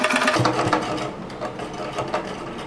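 A sewing machine runs steadily at close range, stitching the side seam of a frill pillow cover made from old tops, with a dense mechanical whir and slight variations in pace.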